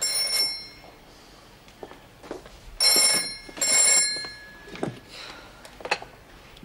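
A telephone bell rings in an office at Wentworth Detention Centre, sounding as two loud, close bursts of ringing around the middle of the clip, with quieter room noise in between and no talking.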